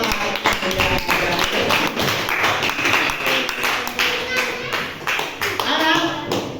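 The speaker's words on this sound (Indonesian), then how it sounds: "tepuk tangan untuk Muhammad Yahya" A classroom of primary pupils claps for a classmate, with quick, uneven hand claps filling the room while children's voices mix in.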